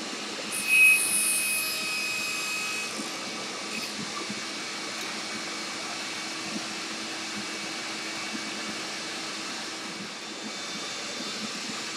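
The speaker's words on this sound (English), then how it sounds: "Now we can start cutting the center dados on all of the dowel supports." A power tool cuts center dados in wooden dowel supports, giving a continuous, fairly even whirring and rushing drone from a brief louder burst near the start to the end, with no voices.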